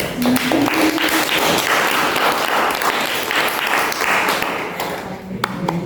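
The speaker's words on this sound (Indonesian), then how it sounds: "Kita beri tepuk tangan yang meriah." Audience applause after a school group presentation fills the room, a dense, steady clapping from many hands at close range that holds at full strength for several seconds before thinning slightly near the end.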